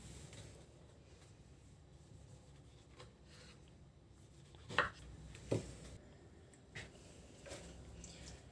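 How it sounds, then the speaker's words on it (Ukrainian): Knife slicing tomatoes and mozzarella cheese on a board, a few soft, quiet cuts and squishy taps spaced apart over faint room noise. "Нарізаємо наші помідорчики. Та сир моцарелла."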